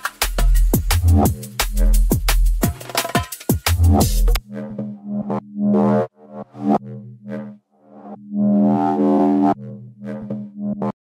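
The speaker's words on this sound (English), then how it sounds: "these lovely mid-bass growls" Mid-bass growls in minimal drum and bass: a loud burst of punchy beats with heavy bass gives way to drawn-out, distorted, buzzing bass notes that swell and cut off in phrases, with no voices.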